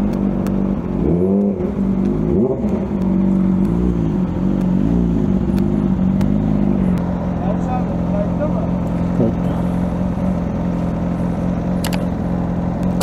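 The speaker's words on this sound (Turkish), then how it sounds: "Bu egzoz sesi bundan geliyor işte." A Yamaha R6 motorcycle's exhaust drones steadily and loudly while riding, with pitch rising and falling through the first few seconds before settling into an even cruise.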